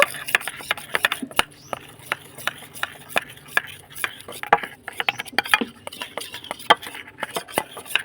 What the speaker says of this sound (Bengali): ভালো করে কর্নফ্লাওয়ারটা তেলের সঙ্গে গুলে নিয়েছি